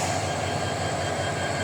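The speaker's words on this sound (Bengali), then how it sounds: "এটা ঢাকা কমলাপুর রেলওয়ে স্টেশন।" Trains at Kamalapur railway station in Dhaka give a steady, loud, rumbling roar of rail traffic, continuous and dense with no breaks or separate events.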